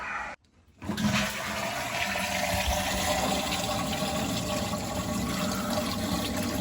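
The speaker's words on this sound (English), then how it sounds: "let's give it a couple of flushes" UK household toilet flushed during plumbing work on the flush cone, a loud rushing gush of water that starts after a brief click and pours steadily, close up with no talking.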